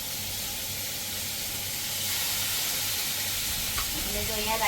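Onions with cumin and shahi jeera sizzling in oil on a tava for tawa pulao, a steady close hiss that swells a little partway through, with faint clinks near the end.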